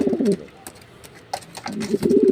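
Racing pigeon cock cooing in a loft, two soft throaty bursts of low rolling coos at the start and end with a few light clicks and shuffles between, close and clear.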